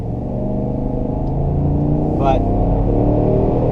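A 2021 Cadillac Escalade's naturally aspirated 6.2-liter V8 accelerates with a steady, loud, low engine drone that rises slightly in strength toward the end, with a brief voice over it.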